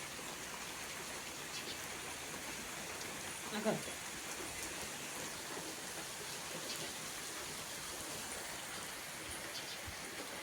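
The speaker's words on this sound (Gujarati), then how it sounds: "વરસાદ આવી ગયો છે." Monsoon rain falls steadily outdoors in a Gujarati village, a dense even hiss of drops on surfaces that continues unbroken throughout, with a brief small knock partway through.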